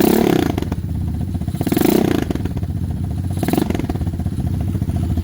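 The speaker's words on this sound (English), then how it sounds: "I don't even mind revving it right now" A used Lifan KP Mini 223 OHC 165FMM single-cylinder engine revs up and down in loud, rough pulses, close by and clattering, with no voices.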